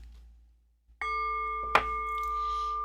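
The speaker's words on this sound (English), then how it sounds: "by the sound of the bell" A small bell is struck once during a tarot reading, a clear ringing tone that sustains and then swells with a second bright accent, after a near-silent start.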